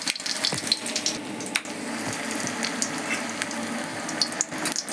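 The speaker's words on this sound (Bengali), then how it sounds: "এটা বেসনের মধ্যে দিয়ে ডুবিয়ে নেওয়ার পর এটা গরম তেলের মধ্যে দিয়ে দিলাম।" Egg and bread pieces dipped in gram-flour batter frying in hot oil, a continuous close crackling sizzle with small pops throughout, no voices.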